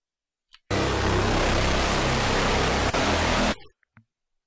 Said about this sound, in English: I like to do the diode 2.